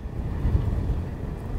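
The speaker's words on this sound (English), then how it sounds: "it's typical big gust of wind came up." A sudden gust of wind buffets the microphone outdoors during a drone flight test of Hubsan Zino drones, a steady low rumble that swells around the middle and holds throughout, with no voices.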